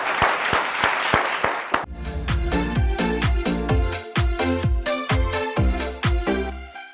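Studio audience applauds four sales professionals on a quiz-style show with a brief, dense burst of clapping, which then gives way to rhythmic music with strong beats.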